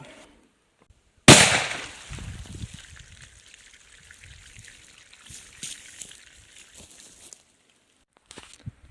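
A .410 shotgun fires a single 2.5 inch, 1/5 ounce slug in one sharp, loud report, followed by a few seconds of rustling, dripping and trickling debris sounds, with no talk.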